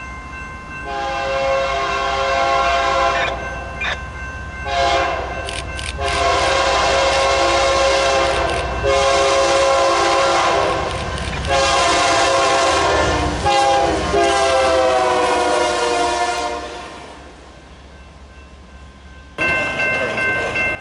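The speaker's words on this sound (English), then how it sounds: "One of those two trains would be this Beartable train coming out of Memphis" A freight train bound out of Memphis passes close by, its horn blaring in several long, loud blasts over a steady rumble of rolling cars, with a brief break before the noise resumes near the end.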